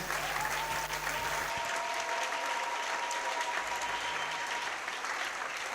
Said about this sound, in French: je veux un tonnerre d'applaudissements pour ceux qui sont venus se réjouir avec notre seul Seigneur Jésus